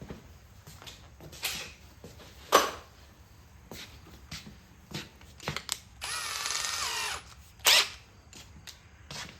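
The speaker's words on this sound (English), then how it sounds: "Oh, it's my drill, but we'll just use my drill." A handheld power drill whirs in a sustained burst during an arcade cabinet restoration, set among clanks, knocks and handling noises from working on the machine; a second short burst follows moments later.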